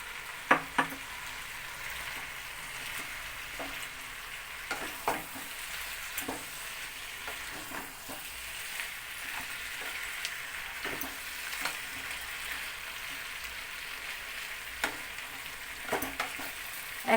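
Fried fish head pieces cooking with vegetables in a pan, a soft steady sizzle with intermittent light stirring knocks, close and fairly quiet, no talking.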